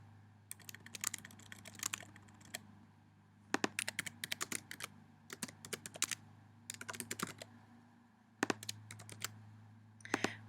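Keystrokes on a computer keyboard as a name and phone number are entered, coming in irregular quick bursts with short pauses between, close and faint over a low steady hum.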